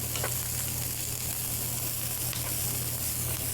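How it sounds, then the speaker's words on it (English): Mushrooms fry in olive oil in a pan, a steady bright sizzle and hiss with a low hum underneath. It stays even and close with no speech. "A little bit of olive oil. Get the mushrooms cooking."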